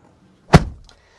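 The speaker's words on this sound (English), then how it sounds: "Closing up the door" Driver's door of a 2026 Lexus NX 350 shutting from inside the cabin: a single solid, muffled thud that fades in a brief low rumble, close and alone.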